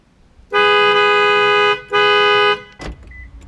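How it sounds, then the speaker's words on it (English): Horn of a 2007 Toyota Camry blaring close and loud, one long toot followed by a shorter second one, then a brief click-like thump. "See that horn sound?"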